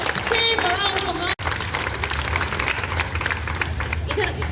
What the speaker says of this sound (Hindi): तो सभी सर मैडम के लिए जोरदार तालियां बजाइए